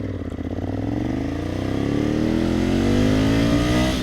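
A 2020 Ducati Scrambler 1100 motorcycle engine under throttle, a steady close engine note rising smoothly in pitch as it accelerates over four seconds, loud and continuous with no talking.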